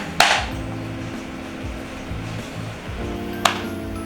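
A knife chops a bar of soap into small pieces on a hard surface, with two sharp cutting knocks set apart by a few seconds and a low steady hum between them.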